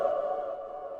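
An angelic vocal sample from the Ethan Dietz vocal kit by ProducerGrind: a sustained, airy choir-like tone with a soft reverberant wash, holding steady and fading slightly over about a second, alone with no talk.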